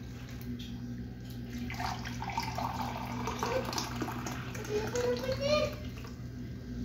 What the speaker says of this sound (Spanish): Aquí en este tengo agua tibia, le voy a medir lo que sean 4 tazas y media.